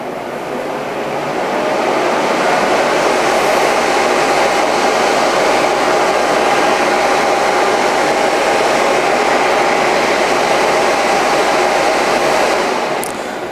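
A loud, steady cooling fan whoosh at 2800 RPM with a faint constant whine, spinning up at the start and cutting off near the end, no voices.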